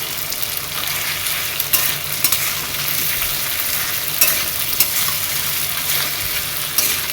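Ginger paste frying in a pan for a Bengali home-style vegetable curry, with a steady broadband sizzle and occasional scraping clicks from stirring, close and continuous with no talk.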